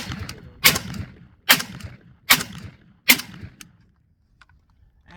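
A JTS M12AK shotgun firing 3-inch shells at the range, four sharp loud blasts about a second apart, each with a short decaying tail, then quiet with faint handling clicks.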